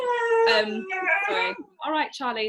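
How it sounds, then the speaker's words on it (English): An excited pet dog howls and whines in long, wavering, melodic cries that run almost without a break. Its voice overlaps a person talking close by. "No, that's my dog. He's quite excited at the moment."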